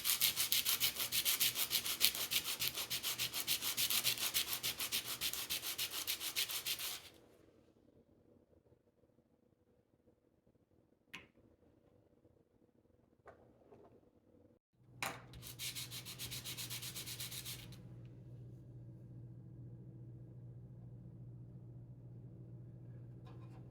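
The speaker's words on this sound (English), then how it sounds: "this is where we're going to use our 120 grit sandpaper" Steady close rubbing of 120 grit sandpaper on a banjo nut, a continuous hiss for several seconds that stops, then a short quiet gap with small taps before a second brief burst of sanding.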